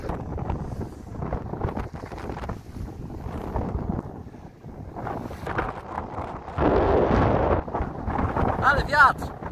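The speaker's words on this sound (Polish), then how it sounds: "Ale wiatr!" Gusty wind on a sailing trip between Calabria and Sicily buffets the microphone with a steady low rumble, swelling louder near the end, while a person talks through much of it.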